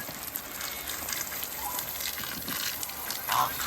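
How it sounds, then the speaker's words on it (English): Water gushes steadily from a hose with a continuous hiss, swelling slightly near the end. "I got some fresh water filling up for you."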